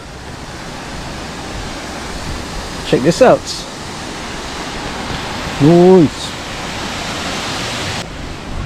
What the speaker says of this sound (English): Just follow the cool waterfall.